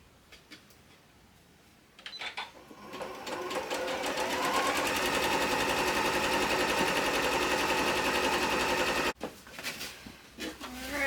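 Sewing machine stitching quilt seams, with a few soft handling noises before a loud, steady buzzing run of several seconds that stops abruptly and is followed by brief rustling.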